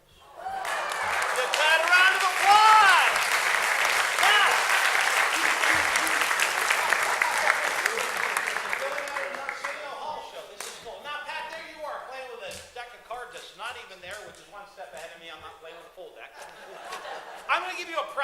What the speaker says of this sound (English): Give Pat a round of applause.